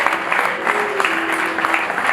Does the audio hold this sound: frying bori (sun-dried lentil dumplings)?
no